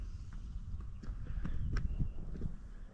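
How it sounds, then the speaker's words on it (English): Horses walk at the summit of Hautacam in the French Pyrenees, one wearing a bell, their hooves giving a loose, irregular clip-clop of several steps at moderate distance over a low outdoor rumble. "And there are wild horses at the top."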